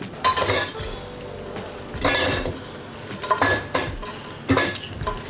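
Cooked moong dal mashed in a pot for Andhra-style pesarapappu charu, with repeated scraping and clinking of a utensil against the pot in short bursts, close and fairly loud, no talk.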